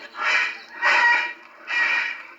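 Caged birds of many kinds in a zoo birdhouse screaming and squawking in three loud, harsh bursts that come close together, like geese or fowl.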